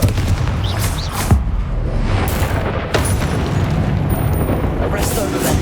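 A Confringo spell explodes in the Hogwarts Legacy video game: loud booming blasts and bursts ring out over a dense, continuous rumble of combat effects.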